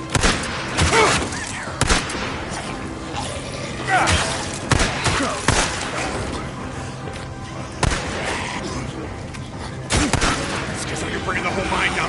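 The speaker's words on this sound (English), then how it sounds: "Schizo, stop shooting!" Repeated gunshots in the Days Gone game, sharp cracks and heavier thumps spaced irregularly through a rumbling mine setting, with a character's voice talking between them.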